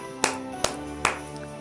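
Children at a Christmas party club clap their hands three times in an even rhythm, sharp and fairly close, with quiet gaps between the claps.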